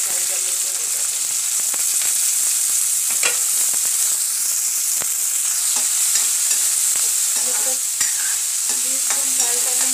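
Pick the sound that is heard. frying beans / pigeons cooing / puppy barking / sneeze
frying beans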